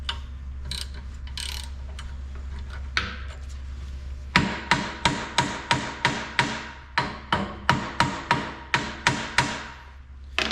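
Sharp metallic hammer taps strike a stuck, broken bolt in a steady series, about a dozen evenly spaced blows after a few scattered knocks, over a low mechanical hum.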